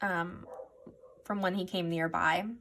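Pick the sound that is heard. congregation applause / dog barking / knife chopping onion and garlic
dog barking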